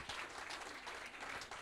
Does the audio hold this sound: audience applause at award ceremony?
yes